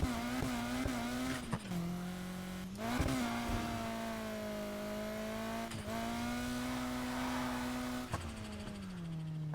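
Race car engine in Need for Speed Heat, a cheap drift build, revving steadily at high pitch with brief throttle lifts and dips as the car slides through drifts, loud and continuous with no talking.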